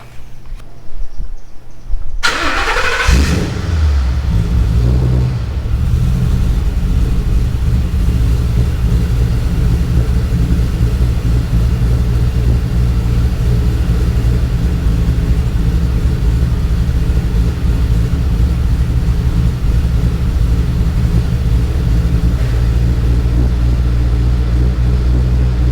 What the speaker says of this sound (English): So I'm gonna get this car fired up